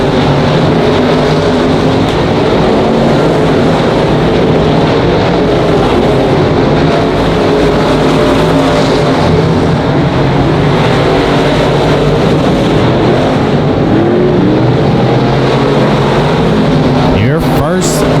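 Race cars lapping the oval at Monarch Motor Speedway give a dense, continuous engine roar throughout, with a race announcer talking over it.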